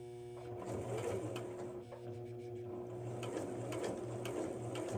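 A sewing machine stitches in reverse on jeans during a waist and hem alteration, a close, steady mechanical whir with a rhythmic needle clatter that pauses and resumes briefly.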